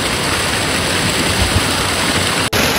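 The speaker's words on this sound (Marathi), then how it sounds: "आता थोडंसं इथं वॉटर फ्लो दिसतोय." Clear stream water flows in Nubra Valley with a steady, loud, broadband rushing, unbroken except for a brief dropout near the end.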